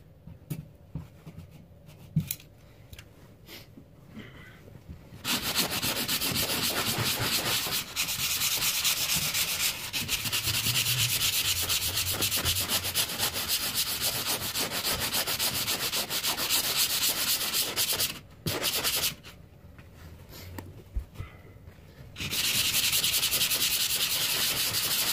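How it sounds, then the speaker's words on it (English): Sanding drywall by hand before taping, a loud steady rasping scrape that runs in long continuous passes with two brief pauses, close and alone without talk. "I gotta sand this all down before I tape it."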